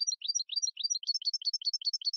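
A goldfinch sings alone in a quick, bright run of high tinkling chirps and twitters, repeated in close, rapid phrases with no other sound.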